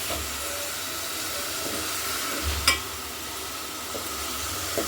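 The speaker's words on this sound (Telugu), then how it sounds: "ఇంకా చిక్కుడు వేసుకునేద్దాం మంచి వాసన పోయే వరకు వేయిస్తా" Broad beans frying in hot oil for a snail curry, a steady close sizzling hiss with a faint stir or clink partway through and no talking.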